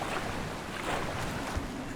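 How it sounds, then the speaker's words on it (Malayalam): A waterfall in the video game Far Cry Primal makes a continuous, even rushing hiss, moderately quiet and unbroken, with no one talking. "അവിടെ വെള്ളച്ചാട്ടം അവിടെ പോയി"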